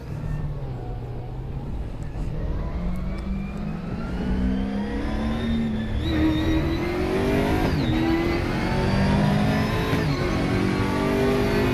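An Aquila CR1 race car engine revs in the Raceroom Racing Experience game on the Hockenheimring, a loud continuous engine whine climbing steadily in pitch through the gears with brief dips at each shift.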